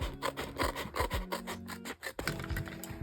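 Paper being cut straight along one side with a blade or scissors, repeated rasping strokes close by in a steady rhythm with a short pause midway, no talking.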